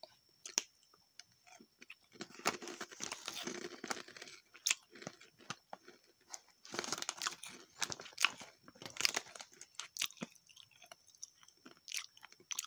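Crunchy seaweed-flavoured Dua Kelinci broad bean snack chewed up close, bursts of dry crunching and biting in irregular clusters separated by short quiet pauses, fairly faint overall.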